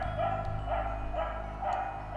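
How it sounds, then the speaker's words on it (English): A dog barks in the Trick & Treat video game, giving a few muffled, rhythmic yips over a steady low background hum. "It's for sure a barking dog."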